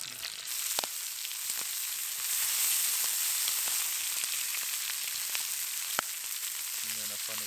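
Beef fillet sizzles in a pan over a campfire at a forest camp, a steady close frying hiss dotted with occasional sharp pops and crackles.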